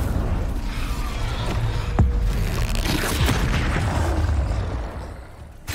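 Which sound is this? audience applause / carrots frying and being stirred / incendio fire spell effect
incendio fire spell effect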